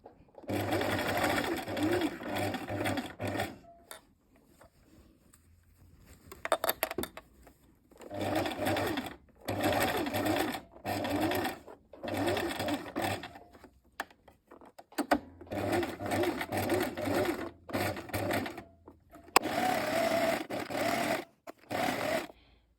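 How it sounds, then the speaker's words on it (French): A sewing machine stitches a trouser seam with forward-and-back reinforcing stitches, running in several steady whirring bursts separated by short pauses, with someone speaking between runs. "je vous conseille également de faire un point avant-arrière pour renforcer votre couture"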